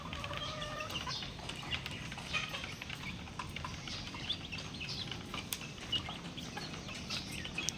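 Backyard chickens in a coop give quiet, scattered clucks and short calls over a faint outdoor ambience, several birds sounding at irregular moments across the stretch.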